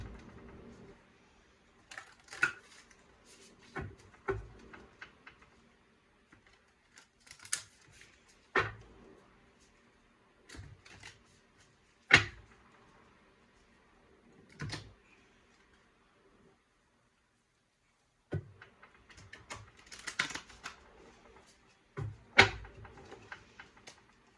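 Tarot cards are shuffled in irregular bursts of soft riffling and tapping, close but fairly quiet, with short pauses between bursts and no talk.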